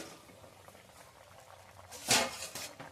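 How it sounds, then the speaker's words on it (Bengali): Fish curry gravy with hilsa boiling in a pan, a soft bubbling simmer that swells into a louder, brief burst of bubbling near the end, with no talking. "2 মিনিট মতো ঝোল আর মাছটাকে ভালো করে ফুটিয়ে নিয়েছি"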